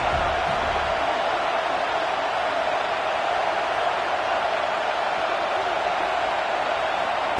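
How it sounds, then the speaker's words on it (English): Steady, dense roar of a stadium crowd at a Neyland football game on third down, a broad constant wash of noise holding at the same level throughout with no distinct voices standing out. "The noise reverberating off the checkerboards in Neyland on third down."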